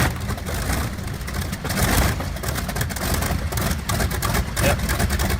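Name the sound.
Wright R-3350 B-29 engine running at tractor pull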